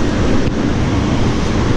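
Water crashes hard at Sautada waterfall, a loud, constant, dense roar that fills the whole moment without any break or voices.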